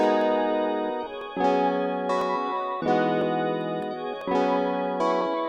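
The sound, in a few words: FL Studio beat: chord progression, ambient background and spacey sound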